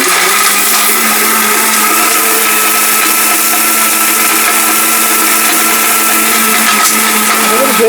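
An electric mixer grinder runs at full power, a loud, continuous, even motor whine and churning roar that holds without pause from start to finish.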